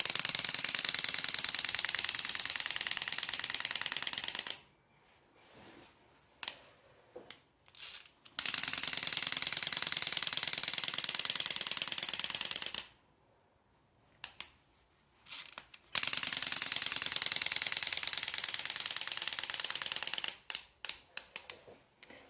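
A Lamaze Flip Flap Dragon baby toy flapping its wings, giving off long stretches of loud, steady mechanical ratcheting and clicking, broken by short silences and scattered clicks between runs, no talk.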